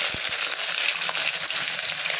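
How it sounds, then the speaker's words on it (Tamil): Whole spices and onions fry in hot oil with a steady, close sizzle, broken by a couple of soft thuds and stirring scrapes near the start, without any voices. "இப்போ பொரிஞ்ச ஒன்றும் இப்போ நம்ம வெங்காயத்தை போட்டுருவோம்."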